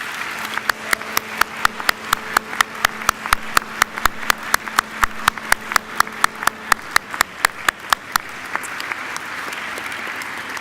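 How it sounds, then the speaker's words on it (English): Graduates at a university graduation ceremony applaud their family and friends with a broad, sustained round of clapping, sharp individual claps standing out in a steady rhythm over the crowd's wash. "give them a mighty round of applause"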